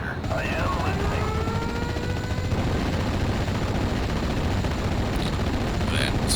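A Sherman tank's machine gun fires in rapid bursts during a Normandy 44 battle, loud and rattling over a constant rumble of engine and combat noise, with a voice speaking briefly at the start.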